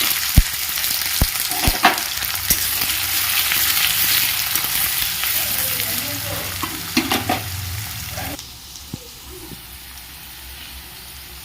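Chopped onions sizzle steadily in a hot pan for spicy chicken pasta, with faint scrapes and taps of stirring, before the frying drops to a softer hiss near the end.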